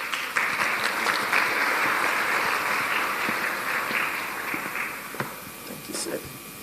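An audience claps steadily at a national youth consultative conference, dense applause that holds for several seconds before thinning, with a voice speaking over it.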